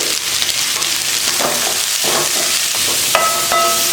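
Green beans are stirred in a hot frying pan with turmeric and salt, a steady sizzle running throughout with intermittent scraping strokes of the spoon against the pan.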